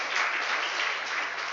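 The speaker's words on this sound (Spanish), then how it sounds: "Dé palmas al Señor para ahí se refresque usted." Church congregation clapping hands in steady continuous applause during a Spanish-language fasting and communion service, a dense even wash of many palms close by with no talk over it.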